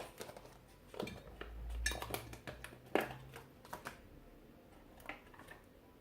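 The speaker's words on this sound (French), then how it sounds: "j'essaye de la mettre un peu partout dans le plat de mon gratin" A spoon spreads butter around a gratin dish for a potato gratin, making soft scrapes and a few light clinks against the dish, close but quiet over a faint low hum, with no talking.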